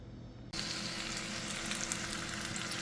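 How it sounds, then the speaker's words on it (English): Onions start sautéing in a hot pan with a sudden loud sizzle that holds steady and close after a short quiet moment, with continuous frying crackle throughout. "I'm gonna saute these for about 4 minutes until they're golden brown."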